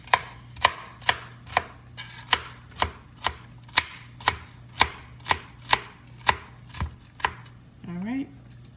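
A dull knife in need of sharpening chops onions on a board in a steady run of about fifteen crisp, evenly spaced strikes, close and clear, with a brief voice at the very end.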